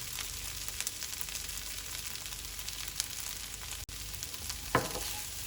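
Samosa potato filling with cumin, coriander and salt fries lightly in a pan, giving an even close sizzle with soft stirring and one brief knock near the end, no talk.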